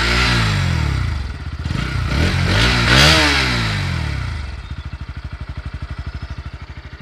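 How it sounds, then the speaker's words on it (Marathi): A 2022 Bajaj Pulsar NS 160 motorcycle engine revs up and settles back, its exhaust note swelling and falling before dropping into a steady, rhythmic idle thump, close and loud. "इंजिनचा साऊंड जो येतो कसा येतो ते."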